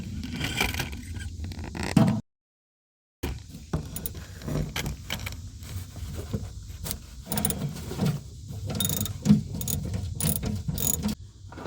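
A socket ratchet clicks in quick bursts while loosening a 9/16 or 14 millimetre bolt with a washer on a skid steer's pedal linkage, close-up metallic ratcheting and clinks with a short gap of silence.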